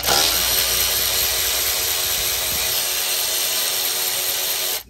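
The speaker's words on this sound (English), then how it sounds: "we need a 10 millimeter socket to take all these four nuts" A 10 mm socket on a powered wrench spins off nuts from the baffle of an EZGO golf cart Robin gas engine, a continuous loud, close whirring whine running unbroken for several seconds before cutting off.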